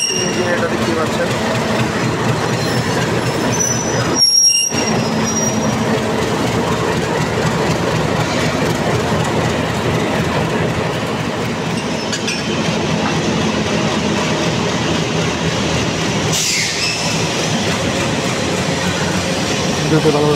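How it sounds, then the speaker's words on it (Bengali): A 2516 series shunting locomotive running at a railway station, a loud continuous engine rumble and rattle throughout, with brief dips and passing metallic sounds. "ইঞ্জিন 2516 সিরিজের একটি শার্টিং ইঞ্জিন, এটা দেখতে পাচ্ছেন।"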